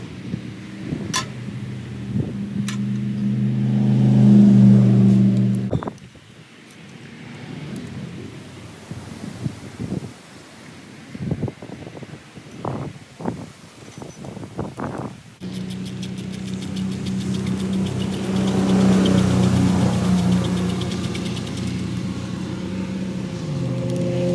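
A Yamaha YFZ450R ATV bought as a non-runner has its engine starting and revving, with two long, droning rev-ups separated by a stretch of sputtering, uneven bursts.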